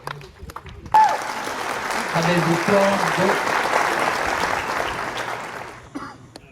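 Roadside spectators applauding the winner of an under-13 cycle race finish, clapping that begins abruptly and swells under an announcer's voice over a loudspeaker, then fades out near the end.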